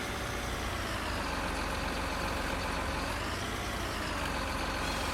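A tree harvester engine in Farming Simulator 19 runs at a steady, loud, heavy diesel drone with constant low rumble and broadband noise, unbroken and alone without speech.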